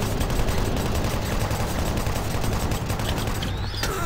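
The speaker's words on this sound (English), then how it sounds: "Alright, chain gun time" A chaingun in the Doom 3 Resurrection of Evil video game fires in a dense, unbroken burst of rapid shots lasting several seconds, loud and steady throughout.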